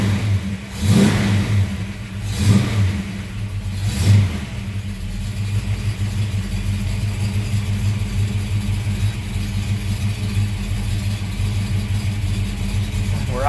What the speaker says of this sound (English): Been on fast idle for a couple minutes.